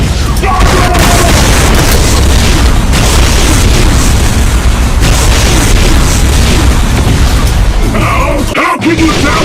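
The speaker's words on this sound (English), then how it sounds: "it fires a volley of enraged bombs that look like nukes but have a moderate blast radius" Loud, dense barrage of booming explosions from a volley of nuke-like bombs fired by a Mastermind in a Doom mod, continuous overlapping blasts with game sounds and shouted voice lines mixed in.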